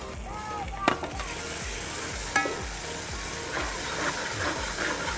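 Steady sizzling and crackling of ginger-garlic paste frying with onions in hot oil, with occasional louder clinks from stirring, continuous throughout and close by.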